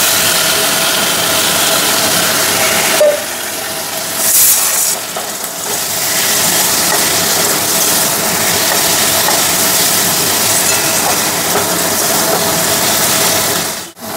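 A pressure cooker with mutton curry inside lets out a loud, continuous, steamy hiss of a whistle, close by and steady throughout, with a short dip midway.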